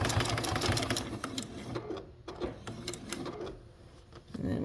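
A sewing machine stitches along the bottom edge of a makeup brush roll made from a vintage quilt, running in steady rapid bursts with pauses and changes in pace, close and fairly loud.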